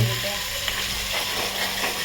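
Crushed tomato puree hits a hot pan for chole sabzi and sizzles loudly and steadily at close range, with faint stirring underneath.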